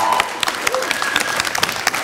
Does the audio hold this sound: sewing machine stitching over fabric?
no